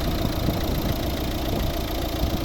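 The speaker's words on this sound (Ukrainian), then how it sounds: "Ось робота двигуна." A Volvo V60 2013 1.6 D2 diesel engine idles steadily, a dense low rumble with a faint rhythmic knock, close and loud, with no voices.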